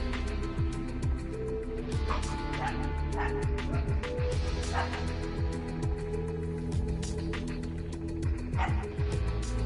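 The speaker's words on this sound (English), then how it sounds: "That dog." A dog yips, whines and barks repeatedly in short excited bursts close by, sounding agitated, with game sounds from Fortnite and faint background noise underneath.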